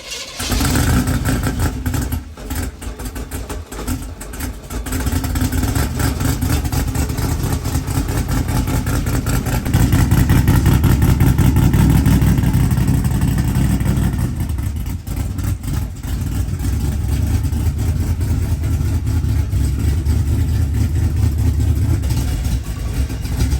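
A forgotten TV Corvette's engine idling steadily up close, a loud, continuous low rumble with slight swells in intensity and no talking.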